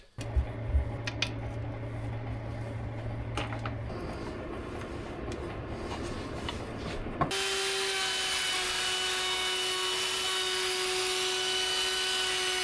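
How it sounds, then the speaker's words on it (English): A wooden shelf is sanded with 80-grit sandpaper on a power sander, starting with scraping and knocking before settling into a loud, steady whirring grind that runs on continuously. "I'm gonna sand them up to 80 and to 120"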